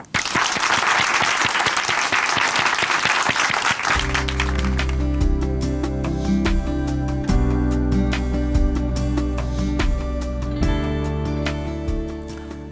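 A church audience at Chuncheon Hanmaum Church bursts into loud, dense applause welcoming a speaker for about four seconds, then the clapping thins and continues under instrumental music that swells in.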